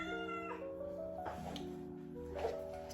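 A pet cat meows several times in short, tonal, wavering calls, fairly close but quiet against a soft indoor background.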